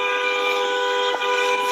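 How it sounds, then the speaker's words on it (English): A car horn held down in the middle of a street blares as one long, steady, loud tone with no break. "She's in the middle of the street, honking the horn."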